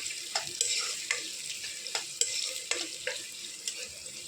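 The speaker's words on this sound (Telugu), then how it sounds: "నెక్స్ట్ పచ్చిమిర్చి, ఆనియన్స్ వేసేద్దాం ఆయిల్లో." Green chillies and onions fry in oil for a chicken recipe, a close sizzling hiss punctuated by regular sharp scrapes and taps of a spatula stirring in the pan, roughly twice per second, with no voices.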